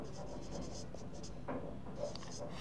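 Chalk or a marker moves across a board during a numerical analysis lesson, producing soft, intermittent scratchy strokes against a constant room hum, fairly faint and close.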